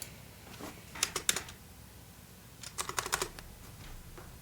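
Quiet typing on a computer keyboard comes in two brief clusters of quick, crisp keystrokes, separated by a pause of near silence.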